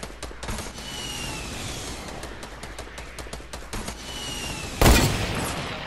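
Dense bursts of automatic gunfire from a Fortnite Battle Royale squad match crackle steadily for several seconds, with scattered sharper shots, and a single loud close blast lands near the end.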